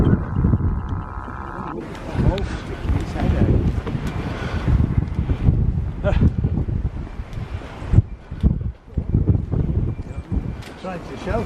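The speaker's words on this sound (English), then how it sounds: "There's a bitter wind." A bitter, near-freezing wind buffets a microphone outdoors on a countryside ramble near Bolton-le-Sands. Loud, rumbling gusts rise and fall continuously, with voices partly heard beneath them.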